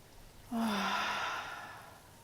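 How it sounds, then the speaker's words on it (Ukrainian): A single deep breath drawn in during a guided meditation, a close, airy inhalation with a faint voiced edge that swells, holds for about a second, then fades. "Зроби глибокий вдих."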